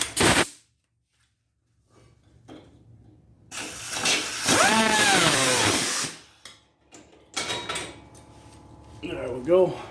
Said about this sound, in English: I think what I'm going to do now is cut the emergency brake cables